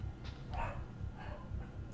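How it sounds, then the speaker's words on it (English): Several dogs barking off in the distance, repeated muffled yaps and woofs rising in short bursts over a steady low hum, faint and not close. "Sorry if you guys can hear all the dogs barking."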